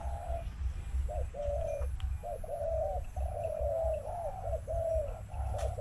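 Caged spotted doves coo in repeated soft, rolling phrases over a low steady background hum, several calls following one another in an even rhythm.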